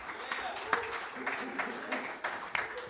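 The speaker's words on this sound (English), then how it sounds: "And give an applause for the second place," Applause for the second-place game at a game of the year awards show, a dense wash of clapping from a crowd that holds steady for a few seconds, with a voice speaking over it.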